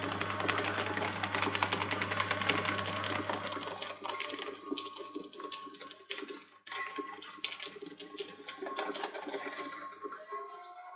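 A 1550C paper shredder feeds a stack of paper sheets through its cutters, giving a steady, close grinding whir with a low motor hum that fades after a few seconds while the shredding rattle continues.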